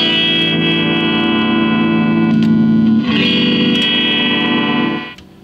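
A 1970s Fender Telecaster electric guitar played through a small bench amp, a sustained distorted, effect-laden chord with chorus shimmer and a pitch bend partway through, loud and close before cutting off near the end.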